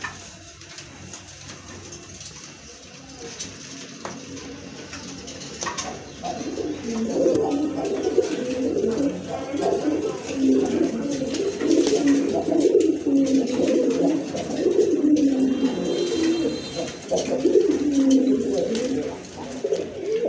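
Pigeons at a pigeon sale, including a khaki male, coo steadily and fairly close, a dense layered cooing that swells after the first few seconds and continues throughout with no talk.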